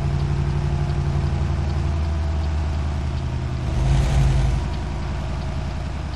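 A Kenworth truck engine in Euro Truck Simulator 2 drones steadily at a low idle-to-cruise pitch, with a brief swell in loudness around the middle before settling back to an even hum.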